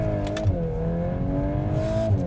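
A stock, factory-spec Audi S3 launches hard using launch control, its engine rising sharply in pitch through a gear with a brief shift in the middle, loud and close with no talk.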